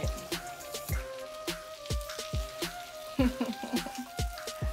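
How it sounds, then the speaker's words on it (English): Shrimp frying in a hot pan for a loaded shrimp baked potato, giving a steady close sizzle with repeated sharp clicks and scrapes, and no voices. "Throw the shrimp up in the pan."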